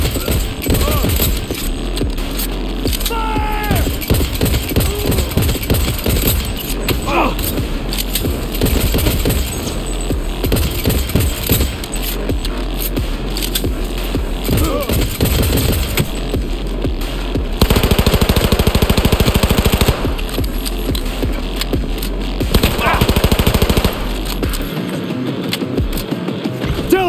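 Gunfire in the video game Cyberpunk 2077, loud rapid bursts of automatic shots with single cracks, running continuously for nearly half a minute amid other game noise, with occasional voices.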